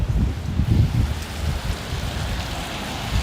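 Rain falls steadily outdoors on a Saturday night in Brooklyn, a dense low wash of patter and street rumble that stays broad and continuous with no voices.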